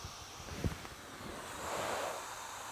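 Air hisses softly out of an opened valve on a two-person FRUITEAM sleeping pad, a faint breathy rush that swells midway through after a small tap, quiet and close with no talking.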